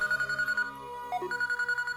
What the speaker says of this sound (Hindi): फोन उठाओ बेटी